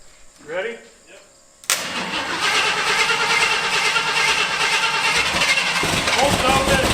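A long-dormant Ford F250 barn-find pickup engine cranks and catches abruptly after brief talk, then runs loud and steady at high revs, rough and unsettled near the end.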